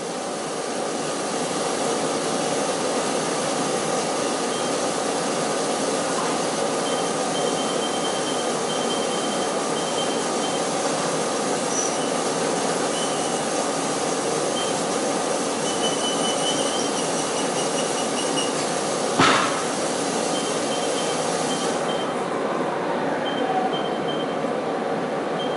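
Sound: reaming operation on metalworking machine

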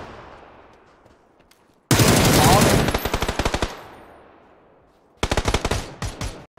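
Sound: gunfire in a shooting video game

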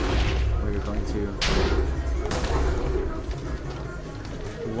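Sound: explosion in the video game Minecraft

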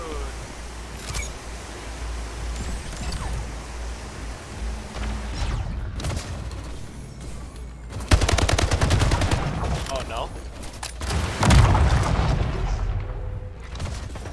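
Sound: gunfire and rocket launcher in video game Slipgate

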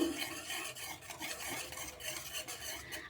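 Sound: stirring powdered milk mixture together with milk

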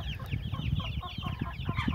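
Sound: chicken hen clucking

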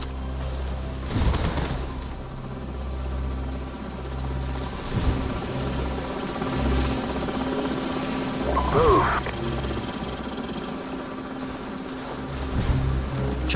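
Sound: helicopters in a video game

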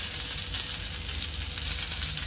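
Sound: curry leaves sizzling in hot oil

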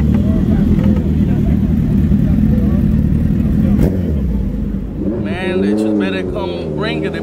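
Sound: Suzuki Hayabusa motorcycle engine revving

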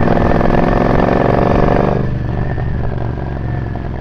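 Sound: supercharged Triumph Bobber motorcycle engine running

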